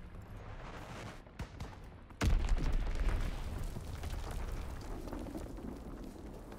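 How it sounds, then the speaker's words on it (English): In a video game free-for-all match, a bomb explosion lands as one sudden heavy boom partway through. A long rumbling roar follows and fades under a busy battlefield background. "Enemy bomb incoming. Get to cover."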